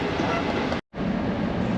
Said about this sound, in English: Here is our Siemens SC44 Charger, number 2120, leading the train.